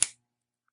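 A wire cutter snips the excess off a coil of silver wire while making a Greek Link necklace: a single sharp, close snap that dies away almost at once into silence.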